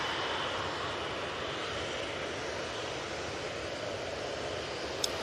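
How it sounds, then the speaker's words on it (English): A Jet2 Boeing 737 airliner approaches to land at Manchester Airport, its steady broadband engine roar holding at a moderate, fairly distant level for the whole stretch. "Jet2 737 now coming on in front of us"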